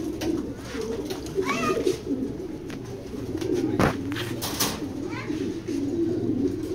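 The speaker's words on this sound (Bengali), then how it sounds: "তো এইটা বিডার একটা কবুতর" A Sumo-line racing pigeon hen cooing softly while being held and handled in a loft, with low repeated coos, brief rustles and faint background bird calls.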